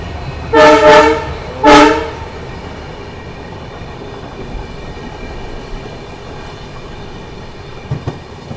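Ajmer–Bandra Terminus special train passing near Ajmer Junction, two loud close horn blasts, the first longer than the second, followed by a steady low rumble of the moving train fading into quieter ambience.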